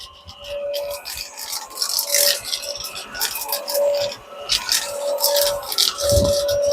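A bagless vacuum cleaner runs steadily with a high whine, while rattling, scraping clatter comes in bursts as a stone is sucked up from the floor.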